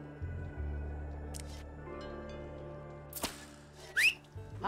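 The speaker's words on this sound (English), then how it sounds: "we can have Hector whistle" Hector whistles in the Desperados III video game, a short rising whistle near the end standing out against quiet game ambience, preceded by a sharp click-like thud and some faint scattered sounds.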